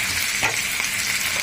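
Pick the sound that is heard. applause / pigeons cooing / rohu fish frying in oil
rohu fish frying in oil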